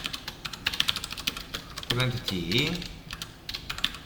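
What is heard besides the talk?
typing code on a computer keyboard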